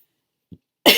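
A person coughs: a faint short throat sound, then one loud, sharp cough close by at the end.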